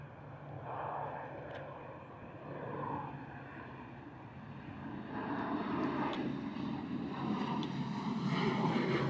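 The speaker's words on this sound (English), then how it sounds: "Going very steep there, the ATR," ATR turboprop airliner climbing steeply out of Bristol Airport in a crosswind, a broad propeller and engine drone that swells and grows louder over the clip, heard from the ground at a distance.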